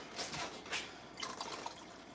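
Water poured into a measuring cup in a home kitchen, about one and a half cups for a chicken soup roux, with splashing, dripping pours in short bursts, fairly close and quiet.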